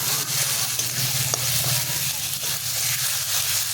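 Kochu mukhi (taro corms) being stirred and fried in a pan, a steady broadband sizzle with a constant low hum underneath and occasional soft scrapes of the spoon, close and even throughout.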